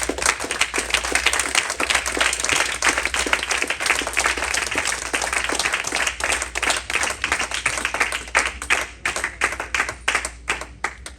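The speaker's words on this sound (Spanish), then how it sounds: "¿Cuántos dan un aplauso al Señor?" Church congregation clapping during a Sunday communion service, loud, sustained applause from many hands with sharp individual claps, thinning toward the end.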